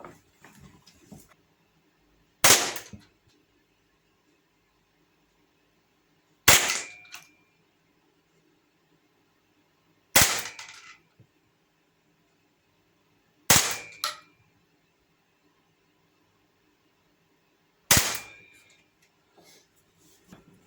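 Five sharp air pistol shots from a Sig Sauer M17 fitted with an adjustable rear sight, spaced a few seconds apart in a quiet room, each a crisp loud crack with a short tail.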